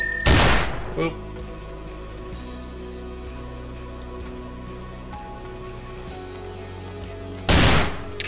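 Gunfire in a survival video game aimed at a road sign for shooting practice: two loud, sharp blasts stand apart, one near the start and one near the end, with a quiet low hum between them.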